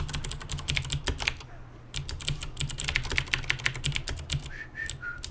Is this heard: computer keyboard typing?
yes